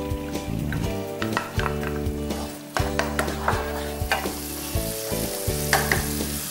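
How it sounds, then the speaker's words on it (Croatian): Pickled cucumbers and diced hard-boiled eggs braise in an egg sauce in a pan, giving a steady close sizzle broken by repeated stirring scrapes and soft clinks, with faint tonal music underneath. "I piremo kratko dok krastavci ne opuste."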